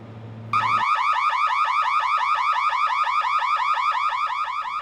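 A loud, continuous electronic workplace fire alarm with a rapid warbling pulse starts abruptly after a brief low hum and sounds on steadily without pause.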